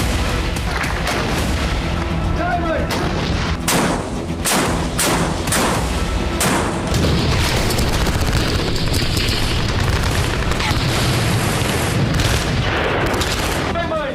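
K9 Vajra self-propelled artillery gun firing rounds in succession, heavy loud booms with rumbling echoes spaced a few seconds apart, with a voice talking over the blasts.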